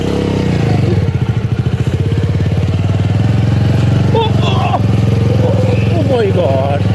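A motorcycle engine runs close and loud, starting with a rough rhythmic chugging that smooths into a steady drone, with a voice and shouts heard over it later.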